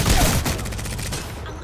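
Gunfire in the battle royale video game Apex Legends, a loud, dense burst of rapid shots packed together at the start, then trailing off and fading over under two seconds.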